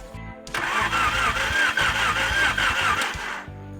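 A 1987 Integra engine cranks over with a newly installed remanufactured fuel injector, the starter churning steadily and rhythmically for about three seconds, close and loud, with no voices.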